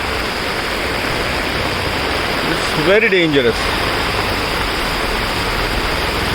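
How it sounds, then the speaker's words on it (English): Heavy floodwater rushing into an open street drain during Mumbai monsoon rain, a loud continuous roaring wash close by, with someone briefly speaking over it. "Now the water is flowing through the drain."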